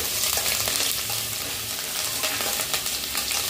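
Onion, garlic and ginger paste stir-frying in hot oil for mixed chowmein, a loud, close, continuous hissing sizzle with faint scraping of stirring throughout, no talk.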